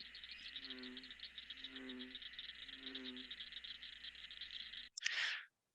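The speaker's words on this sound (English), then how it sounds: "there's some cricket frogs calling, actually. I think. Nope, chorus frogs calling, I think." Chorus frogs call from a distance in a pond, a few rising rattling trills repeating about once a second over a faint background, followed by a short burst of noise.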